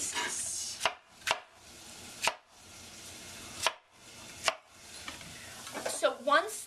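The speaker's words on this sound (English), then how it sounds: "it doesn't really make a difference how you cut the cauliflower. You want it to be in basically even pieces" A knife cuts cauliflower into even pieces on a cutting board, with about seven separate sharp chops at uneven gaps over quiet kitchen background noise.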